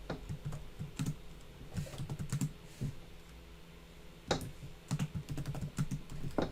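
Someone types code on a computer keyboard in quick, uneven bursts of clicking keystrokes, with short pauses and a few louder key strikes, close and without speech.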